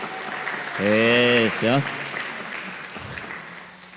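Brief round of clapping from participants in an evening team-development class, a soft patter under a voice that speaks and draws out a long sung-like vowel, then the room settles.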